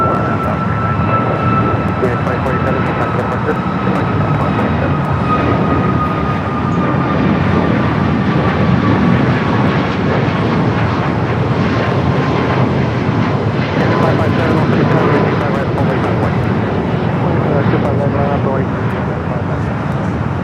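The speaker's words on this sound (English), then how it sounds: "Lufthansa A380 Super is the next arrival on the north side" A Lufthansa Airbus A380 arriving from Munich at LAX makes a loud, steady roar of engines and wind with a slowly falling whine. A voice talks over it for the full length.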